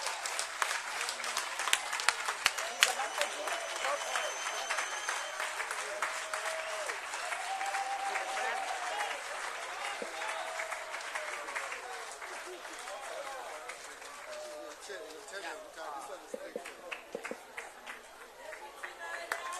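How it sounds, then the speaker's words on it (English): Steady applause from a crowd at the Economic Freedom Fighters' plenum, dense clapping that carries on for a long stretch and slowly thins, with faint voices beneath. "Let's give her another round of applause."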